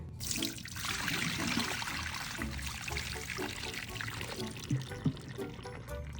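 Dirty water from a cleaner tank pours out in a steady, fairly quiet gushing stream with splashing, a couple of soft knocks near the end, no talking.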